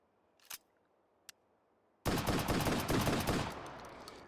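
Benelli M4 shotgun fired in the VR game H3VR: two sharp, separate reports a moment apart, then a dense burst of rapid, loud blasts running on for about two seconds before trailing off.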